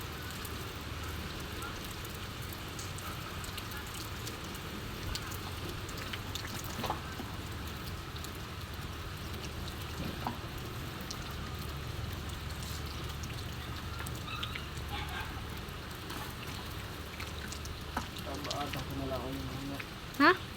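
Steady rain falls with a continuous soft hiss and patter, with faint voices now and then in the background.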